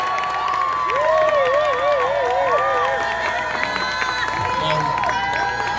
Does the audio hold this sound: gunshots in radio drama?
no